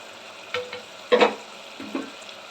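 Tamarind water poured into a pan of frying onion and tomato for a Tamil fish curry, giving a few moderate sizzling, stirring bursts, the loudest in the middle, with no talking.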